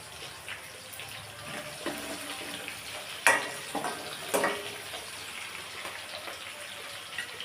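Garlic cloves go into onions frying in a pan, bringing a low steady sizzle with a couple of sharp clinks and stirring scrapes midway; no speech.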